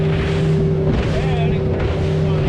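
A Suzuki DF100B four-stroke outboard motor drives a boat at around 50 km/h and 4,700 RPM, giving a loud, constant engine drone with rushing wind and water, with no break.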